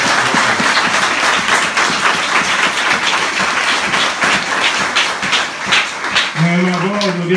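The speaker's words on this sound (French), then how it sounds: "Et nous on applaudit mon Dieu pour toi" A church congregation in Haiti claps and applauds in a dense, loud, continuous wash of hand claps, with a voice rising at the very end.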